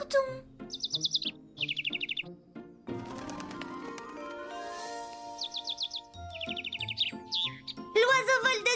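A small cartoon bird in a Hello Kitty episode chirps and tweets in bright repeated trills after waking, mixed with twinkling musical sounds and a sustained tone, close and clear with no speech.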